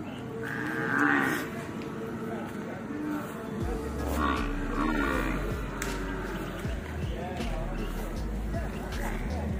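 Male buffaloes low loudly and repeatedly at a busy buffalo market, deep drawn-out calls rising over steady crowd chatter and nearby voices.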